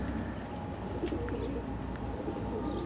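A racing pigeon coos softly and continuously close by in a loft, a low steady murmur with no talking over it.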